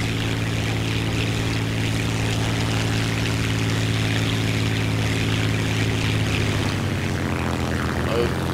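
A propeller plane's engine drones steadily and loudly in the War Thunder combat flight game, a dense continuous hum with no voices, the pitch wavering slightly near the end as the aircraft stalls.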